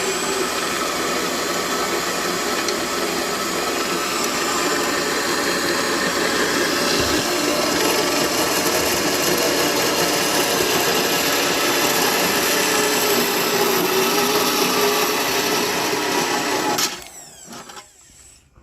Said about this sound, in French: j'ai meulé un peu mon châssis